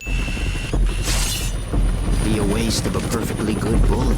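A helicopter in a Wolverine video game thumps and whirs close by among mechanical clanks and impacts, with a voice talking over it.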